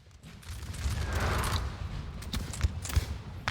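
Russian musket volleys crackle through a forest during a Napoleonic-era battle at Borodino in a video game, a rolling, distant fusillade of scattered shots that builds toward a sharper crack at the end.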